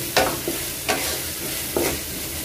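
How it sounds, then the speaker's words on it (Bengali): Onions with salt frying in a pan: a steady sizzle runs throughout, broken by about four sharp stirring scrapes at regular intervals. "লবণটা দিলে তাড়াতাড়ি পেঁয়াজটা ভাজা হয়ে যায়"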